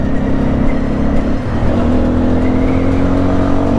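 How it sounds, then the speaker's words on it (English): Cars pass close by on a road in a loud, continuous engine roar, one vehicle's pitch shifting midway as it goes past, with no talking. "Bloody cars."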